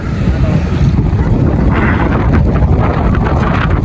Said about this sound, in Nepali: हावा एकदम आइरहेको छ यहाँनिर